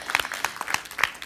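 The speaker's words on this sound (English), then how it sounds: "Yeah, clap for that one." A few scattered claps from a small audience at a talk about children and normality, sparse, uneven hits spread over about a second without a steady crowd roar.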